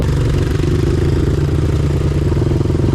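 Motorcycle with a big bore kit on a 174 engine, warming up while riding slowly; a close, steady low rumbling putter with even pulsing and clatter, no talk.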